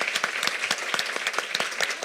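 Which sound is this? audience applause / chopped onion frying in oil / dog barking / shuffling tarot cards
audience applause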